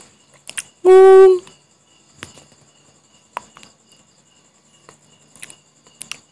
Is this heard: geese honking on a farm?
no